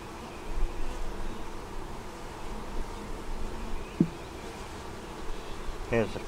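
Honey bees buzz continuously around an open deep eight-frame hive, a dense close drone with faint rustling and a couple of brief clicks from handling.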